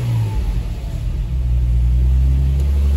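A Nissan 350Z HR engine idles with no foot on the gas, a loud, close, low rumble whose level rises and falls slightly as the idle surges up and down.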